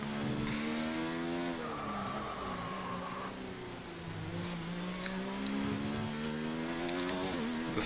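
Racing car engine in a PS4 racing video game, a steady harmonic drone that shifts pitch as gears change, with a brief high squeal like tires skidding early on and a few sharp clicks near the end.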